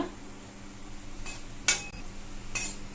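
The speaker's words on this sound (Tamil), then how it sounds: "இப்போ திராட்சையை வறுத்துக்கலாம்." Raisins being roasted in a kadai for rava laddu, a spoon stirring and scraping against the pan with a few sharp clinks, close and fairly quiet, with no talking.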